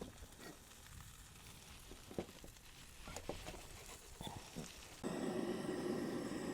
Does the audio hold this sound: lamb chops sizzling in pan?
yes